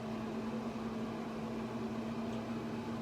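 A Pit Boss Austin XL pellet grill switched on to its smoke setting gives a steady, even mechanical hum with a low drone that holds unchanged throughout, close by and with no talking.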